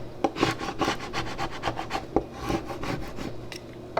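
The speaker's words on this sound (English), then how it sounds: "I'm going to go ahead and scrape it." Transfer tape is scraped firmly onto a dry erase board in a quick series of close, raspy rubbing strokes, about a dozen short sweeps in an uneven rhythm, with no voices.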